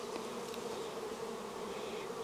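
Honeybees hum in a steady, dense drone around a hive frame, close and continuous with no break.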